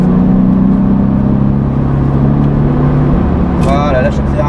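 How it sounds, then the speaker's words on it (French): A Porsche engine drones steadily and climbs in pitch as it accelerates after the clutch is released, loud and close, with a brief voice cutting in near the end. "On débraque, on accélère."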